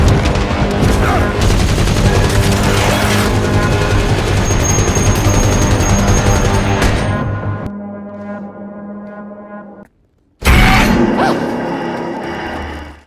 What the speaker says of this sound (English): Dresa fired off some rounds from a machine gun to help out.